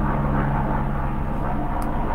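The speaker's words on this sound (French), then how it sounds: "J'ai l'impression que je vais attendre que l'hélicoptère passe." A helicopter passing overhead gives a steady low droning hum with a faint rotor thump, constant and fairly loud throughout the short stretch.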